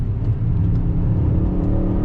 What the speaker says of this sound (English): That all-wheel drive pops coming from the exhaust.